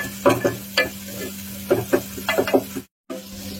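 Tomato and onion sizzling in a pan for mutton kulambu, with a low frying hiss and several sharp spoon scrapes in quick bursts, close by, then a brief gap of silence before the sizzling resumes.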